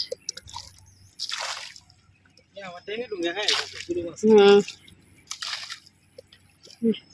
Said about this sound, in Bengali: কলসে মাছ উঠতেছে একটা লাভাইতেছে ছোট মাছ